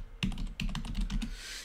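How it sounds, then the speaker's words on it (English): Rapid typing on a computer keyboard while entering text into a website form, with dense, close, crisp key clicks in an uneven rhythm and no talking. "now you actually just click into it like that, and then you could start typing away"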